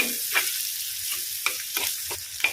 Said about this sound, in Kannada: ಈಗ ಸ್ವಲ್ಪ ಫ್ರೈ ಆದ್ಮೇಲೆ ಒಂದು ಈರುಳ್ಳಿಯನ್ನು ಸಣ್ಣಗೆ ಕಟ್ ಮಾಡಿ ಹಾಕ್ತಾ ಇದ್ದೇನೆ ಇದು ಸ್ವಲ್ಪ ಹೊತ್ತು ಫ್ರೈ ಆಗಲಿ